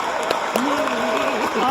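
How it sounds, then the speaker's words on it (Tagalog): Applause from an audience giving a standing ovation at a political address on the West Philippine Sea, a dense, steady patter of clapping with a voice speaking clearly over it. "Standing ovation na po."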